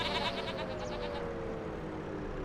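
Goats in the farming video game Farming Simulator 25 let out a string of quick wavering bleats over a constant dense background hum, loud and close, fading into steady ambience afterward.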